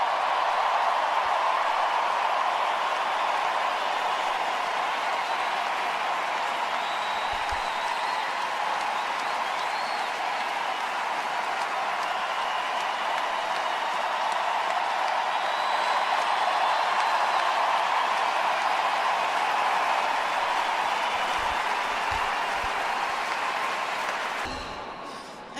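Large stadium crowd applauding and cheering steadily for tennis champion Naomi Osaka at a trophy moment, a dense, continuous roar of clapping that holds level throughout before fading at the very end.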